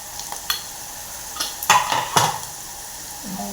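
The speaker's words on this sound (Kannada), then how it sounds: "ಈಗ ನೋಡ್ಬೋದು ಫ್ರೈ ಆಗ್ತಾಯಿದೆ." An Andhra-style dal tempering fries in a pan with a soft, constant sizzle, broken by a few sharp scrapes and clinks of a spoon stirring against the metal.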